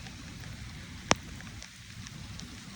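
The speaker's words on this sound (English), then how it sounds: "he loves the rain." Steady rain falls outdoors in a soft, even patter with a low background rumble, faint and continuous, with one sharp brief tick midway.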